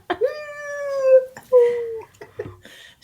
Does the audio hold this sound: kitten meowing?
yes